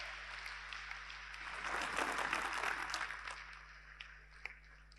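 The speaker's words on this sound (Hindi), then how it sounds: "आप भी ये तालियां बजा करके हरियाणा की सरकार का अभिवादन कीजिए।" Applause from an audience at a public speech by the Indian Prime Minister rises into a broad, sustained wash of clapping from a large crowd, then thins out toward the end.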